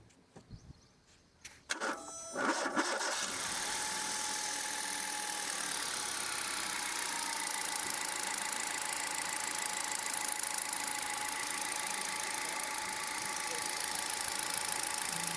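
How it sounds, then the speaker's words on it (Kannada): A Hyundai i10 car engine cranks and starts after a quiet moment, then settles into a steady, smooth idle, heard up close. "ಇಂಜನ್ ಚಾಲೂ ಮಾಡ್ತೀನಿ ರೀ"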